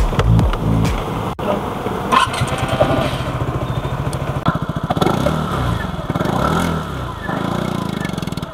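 A 149cc liquid-cooled single-cylinder four-stroke, four-valve motorcycle engine runs close by, a loud steady idle with a throbbing pulse and occasional slight revs.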